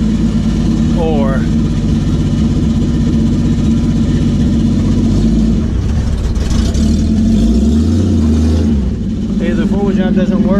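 A Willys truck engine runs loud and close, idling and revving in low rumbling surges during a four-wheel drive test, while people talk over it.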